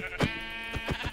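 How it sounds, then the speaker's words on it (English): A sheep in the Minecraft video game bleats as it is hit, two or three short, close bleats in quick succession. "I hate having to hit sheep repeatedly."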